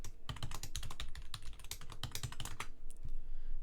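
Rapid, close-up clatter of a computer keyboard as someone types a command to SSH into a server, keystrokes dense and continuous with a brief pause near the end.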